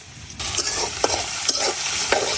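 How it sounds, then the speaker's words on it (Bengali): Onions and garlic fry in a pan with a steady sizzle, broken by four soft scraping stirs spaced roughly half a second apart; no one speaks. "এখন 2-3 মিনিট পরে আমি পেঁয়াজ গুলা দিলাম।"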